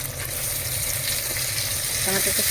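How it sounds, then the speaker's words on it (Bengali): Potatoes and onion frying in a pan with chopped tomato added, steady loud sizzle with stirring sounds and a brief wetter burst near the end. "পেঁয়াজের সাথে আলুটা তুলে দিয়েছি, একটু ভাজা ভাজা করে নিচ্ছি। এবার দিচ্ছি টমেটো কুচি"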